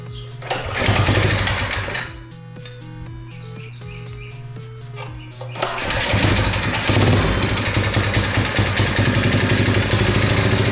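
The small gas engine on a motorized bicycle is pulled through and fires up after a few seconds of sputtering, then settles into a loud, steady, buzzing run close to the listener.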